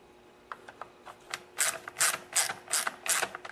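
A ratchet wrench clicks in short repeated bursts while tightening the nuts that hold a carburetor on a STIHL trimmer, close and moderately loud, the strokes speeding up in the second half.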